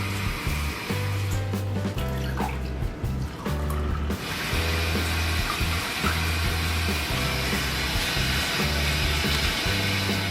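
Water runs steadily into a bowl of tomato paste for pizza sauce, a continuous close splashing pour with a low hum underneath, no voices.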